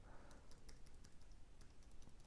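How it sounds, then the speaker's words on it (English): Quiet, fairly quick keystrokes tapped on a compact Apple Magic Keyboard 2, irregular and close up, with no talking. "if I go back to the Artec one and just try a few more sort of random keystrokes"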